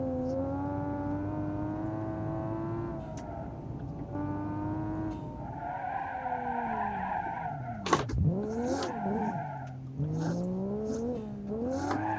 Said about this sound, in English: Gotta drift it like it's rear-wheel drive.